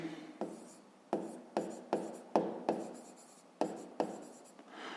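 Pen strokes scratch across paper in a steady series of about ten short bursts, close and fairly quiet, as someone writes out a rounding exercise for a fifth-grade math problem.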